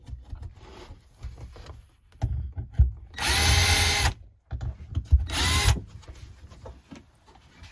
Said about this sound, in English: Use this little self-centering drill bit here.